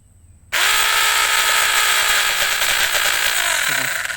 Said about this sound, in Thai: นี่เลื่อยไฟฟ้านะครับ